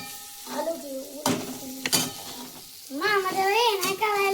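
Vegetables stir-fried in a pan at a home get-together, a soft crackle and scrape of stirring running beneath voices of adults and children talking close by.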